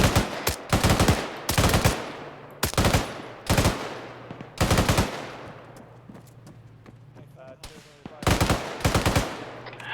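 Gunfire aimed at an IED comes in repeated bursts of loud, close rapid shots with pauses between them and a faint engine hum underneath; brief voices are barely present.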